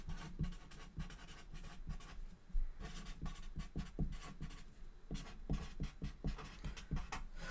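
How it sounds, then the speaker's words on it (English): Handwriting: a steady run of close, scratchy strokes, each short swipe separated by brief pauses as words are written out, fairly quiet and with no voices over it. "And I'm going to go ahead and write that."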